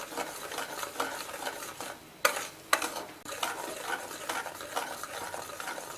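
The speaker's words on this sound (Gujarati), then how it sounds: "જ્યાં સુધી આ કણી બધી છૂટી ઘી છૂટું ન પડી જાય ને ત્યાં સુધી આપણે આને ચલાવતા જ રહેવાનું" Semolina roasting in ghee in a pan for sheera prasad is stirred steadily, with a dry scraping swish and a faint sizzle, and two sharper scrapes stand out partway through.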